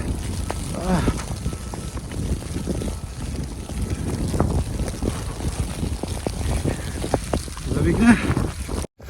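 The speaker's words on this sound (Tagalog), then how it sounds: "Sunstorm na ano, snowstorm na yata to. Yun o, lakas." Strong wind of a snowstorm on a dark walk home in Canada, a loud continuous buffeting roar across the microphone with a person speaking briefly under it.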